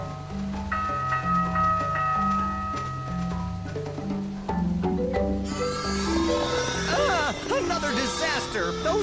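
Sheep bleat in a rising burst from a woolly flock in a rural Wildlands setting of Lightning Returns: Final Fantasy XIII, layered over game music with bell-like tones and clear in the latter part of the passage.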